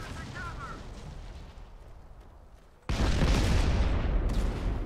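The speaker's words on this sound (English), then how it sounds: "We are gonna go for the artillery strike now." Artillery strike explosions from the Modern Combat 5 mobile shooter: a steady rumbling barrage that suddenly jumps much louder and denser midway, a continuous roar of booms and blasts, with some quieter game noise before it.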